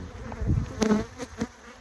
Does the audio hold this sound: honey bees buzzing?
yes